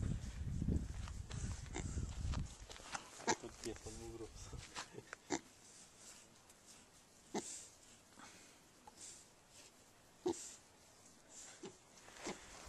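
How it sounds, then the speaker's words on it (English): Soft grunts from a pig close by in Napuchis, Mexico, as its tummy is rubbed, intermittent, with people talking quietly in the background. "There's a happy pig getting its tummy rubbed."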